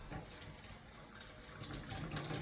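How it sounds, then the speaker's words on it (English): A faucet runs in a steady, moderately loud stream to wet a paint brush after it has been cleaned of oil-based paint with odorless thinner, with no talking over it. "So, and then wet the brush."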